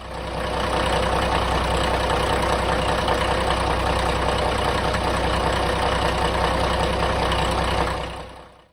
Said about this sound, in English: If the sound of a Caterpillar 1693 doesn't give you chills, you've never heard one spool up under load.